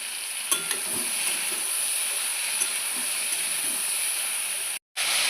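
Ridge gourd greens sizzle steadily in a hot pan with salt and turmeric, a dense frying hiss with a few scraping stirs near the start and a brief cut to silence near the end.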